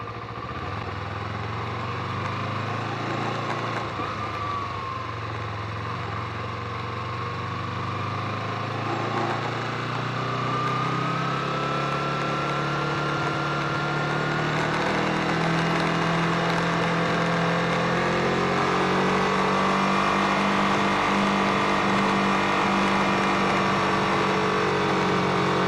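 A Kawasaki Ninja 250 motorcycle with changed sprockets accelerates in first gear, a continuous engine drone rising steadily in pitch and growing slightly louder over about 25 seconds, with no talk.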